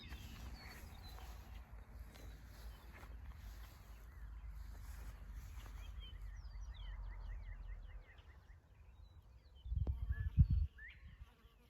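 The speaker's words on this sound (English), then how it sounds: "Honeybees have already found our apples." Honeybees hover around the opening blossoms of a Jonathan apple tree in a spring orchard, a soft continuous buzz lasting several seconds over light outdoor ambience, followed by a louder, closer burst of buzzing near the end.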